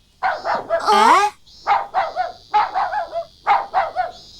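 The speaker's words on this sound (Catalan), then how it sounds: "No és la gossa d'en Yunosuke?" A dog barks and yelps in short repeated bursts with a whining cry between, close and loud, in an animated cartoon scene.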